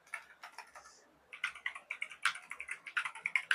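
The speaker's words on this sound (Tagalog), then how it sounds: "nagta-type tayo ng Arnold" Quick, light keystrokes on a computer keyboard as the name Arnold is typed into a JavaScript character counter, a rapid uneven patter of clicks close by, with no talking.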